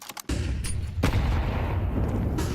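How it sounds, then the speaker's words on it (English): A high-explosive grenade detonates in Counter-Strike 2 during a competitive match, a sharp burst followed by a sustained roaring rumble that fills the short moment, with no voices over it. "HE to blow that one open, but Holzer it's a little bit too early"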